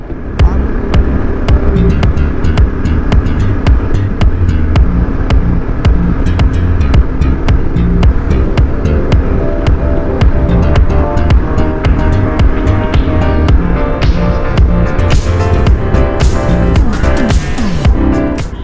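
A Yezdi Adventure motorcycle accelerates hard through its gears on a ride. The engine roar is mixed with heavy, constant wind buffeting, and rising engine pitches show up toward the end, all loud and close, with no talk.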